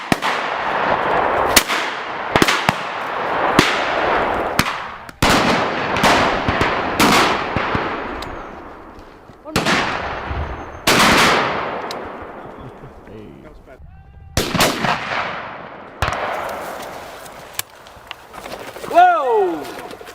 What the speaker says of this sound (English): Good shooting, Peter.